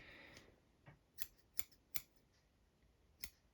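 Four or five crisp, close snips of scissors trimming material for a fly-tying leech, spaced about a second apart with short pauses, then one last cut after a gap.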